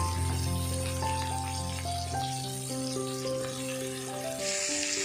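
Squeezed soybean chunks drop into a pan of frying pointed gourd for a Bengali potato and parwal curry, making a moderate, steady sizzle with tonal kitchen hum layered over it and a brighter burst near the end.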